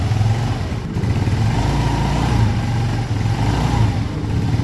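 Bored-up 130cc Yamaha Mio Soul scooter engine running up close, a loud continuous buzzing drone held at raised revs with small swells throughout, no voices.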